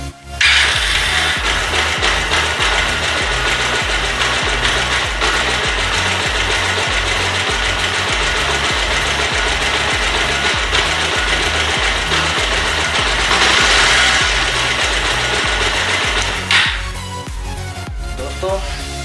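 A motorcycle engine, just self-started during a fix for engine noise, runs steadily with a loud, even mechanical chatter close by for most of the stretch, then drops to a quieter idle near the end.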